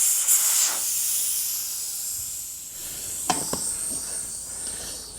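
Compressed air hisses steadily into a Harley motorcycle tire as the bead is being seated, loud and close, with a couple of brief sharp clicks partway through.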